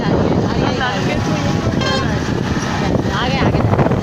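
Heavy car traffic streams across a super highway bridge: a steady, loud broadband roar with wind buffeting the microphone, and someone talking over it.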